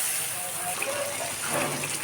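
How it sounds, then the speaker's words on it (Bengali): Water poured into a pan of frying spice masala for a chicken roast gives a steady hissing gush close by, with a louder burst of sizzle toward the end. "এখানে আমি সামান্য পানি অ্যাড করে দিচ্ছি যাতে মশলাটা পুড়ে না যায়।"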